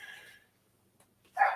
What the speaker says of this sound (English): Them dogs are barking at something.